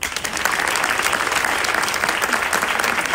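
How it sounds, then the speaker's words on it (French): An audience at a championship ceremony applauds in a loud, dense, continuous burst of clapping that fills the moment without speech. "je vous demanderai de l'applaudir."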